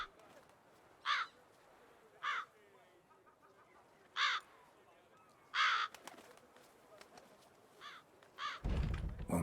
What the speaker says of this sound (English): A lot of the crows or whatever.